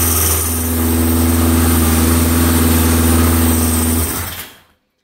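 A snowmobile engine that had overheated and shut off runs at a steady, loud idle with a buzzing hum, then cuts out abruptly, leaving silence.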